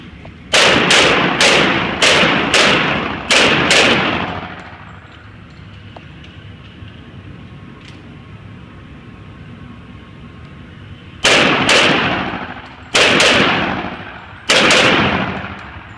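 Rapid bursts of handgun fire during point shooting practice on a range, two clusters of loud, sharp shots in quick succession with a quiet stretch of background in between, close and echoing.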